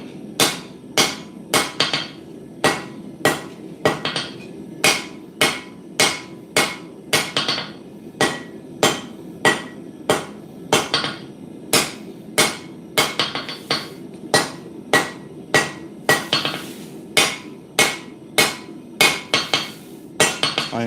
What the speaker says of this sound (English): I am currently using my English Cutlass hammer, my mountain English Cutlass hammer.